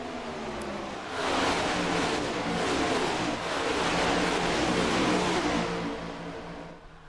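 Stock cars completing a lap at Daytona in a Cup Series race roar past in a dense pack, engines swelling loud after a second and staying heavy before fading slightly at the end, with no talk.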